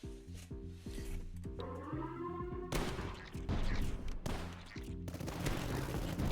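Reaper cannon turrets fire in the tower defense video game Tower Dominion, a rapid, loud mechanical volley of repeated shots with bursts of heavy impacts and explosions building midway.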